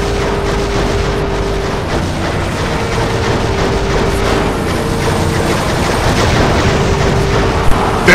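Rocket explosions rage nonstop in the vehicle-combat game WWE Crush Hour on GameCube, a dense, loud wall of booming and rumbling blasts that never lets up.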